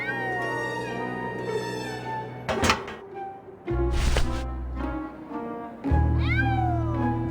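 A cat meows repeatedly in drawn-out, rising and falling cries over a steady low hum, with a couple of sharp thumps in between, in the video game Grim Fandango.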